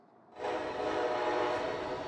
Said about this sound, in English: A new high-speed train between the cities of Miami and Orlando in the U.S. state of Florida.